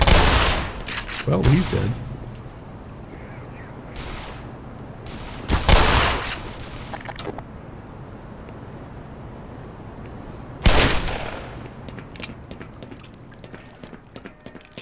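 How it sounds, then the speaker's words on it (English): Magnum revolver shots in Black Mesa ring out loud and sharp in a few separate bursts, each with a booming tail, over steady game ambience while someone speaks briefly. "Magnum shots kick so hard"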